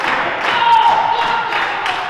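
Crowd at an XCW Cold Day In Hell 2024 wrestling event clapping and cheering during a match, a steady, dense wash of applause and crowd noise filling the whole moment.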